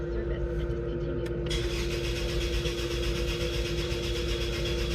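A 1999 Acura TL engine with a fuel system fault cranks and sputters steadily, a rough mechanical rumble that keeps turning over without catching.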